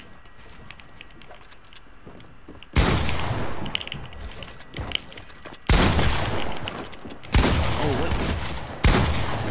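Bursts of gunfire in the Fortnite video game come in four sharp, loud volleys after a quieter stretch, with a player's brief exclamation over the game audio.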